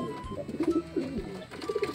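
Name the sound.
pigeons cooing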